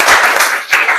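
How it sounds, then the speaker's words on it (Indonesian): Applause from a classroom audience of teachers and students for students' artwork, a short loud burst of close, rapid hand clapping lasting about a second. "yang pasti tetap kita kasih aplaus"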